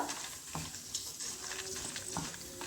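Red chillies fry in a pan for a lentil chutney, giving a faint, steady sizzle with occasional light scraping stirs throughout.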